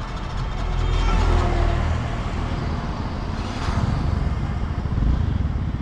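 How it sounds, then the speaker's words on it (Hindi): A TVS Ntorq scooter self-starts on its double stand and settles into a steady engine drone, close and fairly loud throughout, with no voices. "एक बार सेल्फ लगाता हूँ।"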